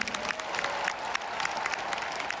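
Theatre audience applauding after a performance of the ballet Cinderella, a steady wash of many hands clapping at moderate distance, continuous and fairly even throughout with no talking.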